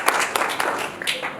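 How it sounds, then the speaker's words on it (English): Workshop audience clapping at a food-security policy dialogue in Ethiopia, a short burst of scattered hand claps in a room, moderately loud, with a bit of talk mixed in. "I would like you to clap for yourself"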